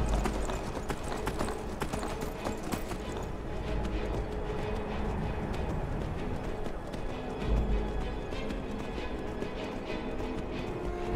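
Horse hooves clip-clop at a steady gallop in Skyrim, a rhythmic run over wind and ambient game sound, fairly close and continuous.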